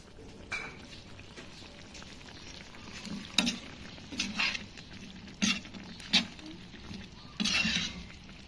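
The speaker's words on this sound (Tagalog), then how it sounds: "Haluin lang natin at antayin din lang natin lumambot ang ating mga veggies" Spoon stirring potatoes and carrots in a pot of simmering chicken afritada with tomato paste, producing a few sporadic scraping clatters over a soft, steady simmer.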